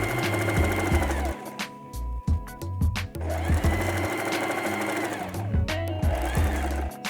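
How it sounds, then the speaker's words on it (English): A sewing machine stitches the body of a bag in steady, loud motorized runs, pausing briefly twice as the fabric is turned before stitching resumes. "lift the presser foot and turn the body of the bag. And you can continue sewing."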